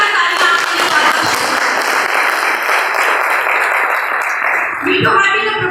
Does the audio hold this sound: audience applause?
yes